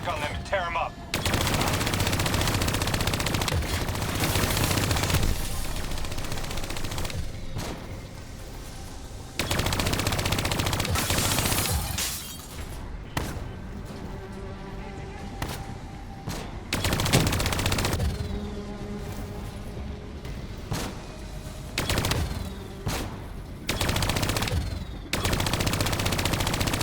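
Gunfire in the video game Call of Duty: Black Ops III, long loud bursts of automatic fire broken by short pauses and scattered single shots, with occasional voices between volleys.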